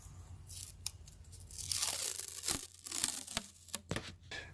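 Strips of tape are pulled and torn from a roll for a glitter tumbler craft project, producing several close, sharp ripping bursts and crinkles with brief quiet gaps between them.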